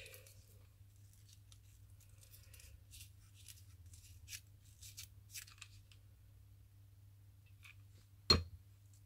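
A single short snip of scissors cutting through decoration material, close and crisp, over a low steady hum in an otherwise quiet room.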